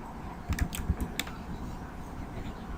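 A few quick, close keystrokes on a computer keyboard enter a spreadsheet formula, clustered in a short burst before the clicking stops over a quiet room background.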